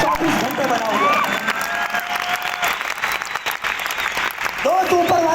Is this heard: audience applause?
yes